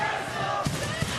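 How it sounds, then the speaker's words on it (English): Wrestling arena crowd noise at a Ring of Honor event, a steady broad roar of many voices filling the hall, with a couple of brief louder swells rising out of the din. "You hear the crowd."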